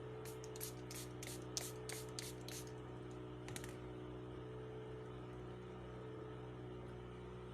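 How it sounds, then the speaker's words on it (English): A makeup setting spray mist is pumped in a quick run of about eight short hissing bursts, then one more pair a moment later, close and fairly crisp over a steady background hum. "And lastly, I'll come in with my makeup spray."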